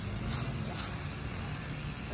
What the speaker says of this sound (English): So she already heard a car that's coming by,